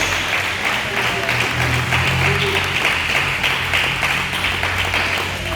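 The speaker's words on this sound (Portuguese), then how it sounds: "Nós vamos aplaudir o Senhor, né?" A church congregation claps in continuous, moderately loud applause, steady throughout with a low hum and murmuring voices underneath.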